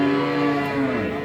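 A dairy cow at the Aftabganj cattle market lets out a single long, loud moo, droning steadily for about a second against faint market background noise.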